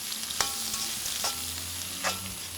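Onions fry in coconut oil in a Kerala kitchen, a steady soft sizzle broken by three distinct stirring scrapes, heard close with no talking.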